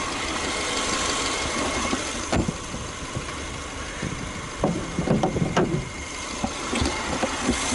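A used car's engine idles continuously nearby, a steady low hum with faint scattered clicks and knocks around it and no one speaking.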